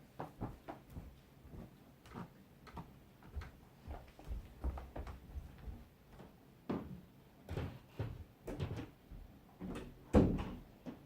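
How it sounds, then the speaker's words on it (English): A bathroom door upstairs bangs repeatedly in a house, a series of irregular knocks and thuds of varying loudness, ending with a firmer shutting thud near the end. "I think it's my bathroom door upstairs banging."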